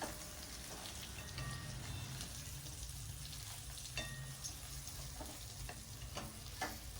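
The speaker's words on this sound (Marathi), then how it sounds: "याला तेलावर एक 3 ते 4 मिनटं मंद गॅसवर परतून घेऊयात" Stuffed brinjal frying gently in oil with masala over low heat, a soft continuous sizzle with occasional faint crackles and light stirring, quiet and steady.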